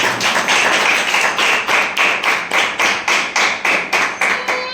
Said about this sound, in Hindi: एक बार परमेश्वर के लिए ताली बजाकर शुक्र।